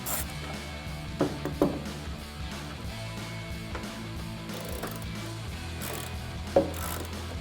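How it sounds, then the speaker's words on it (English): A ratchet with a T25 Torx socket works on the taillight bolts of a RAM 1500 pickup, its clicking pawl turning steadily at close range with a few louder knocks of the tool. "grab a T25 Torx socket and a ratchet."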